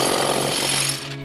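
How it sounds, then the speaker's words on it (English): A large jackhammer pounds a concrete slab up close, loud and continuous with a steady rapid hammering drone that eases off slightly near the end. "A large jackhammer like this is an awkward tool to operate"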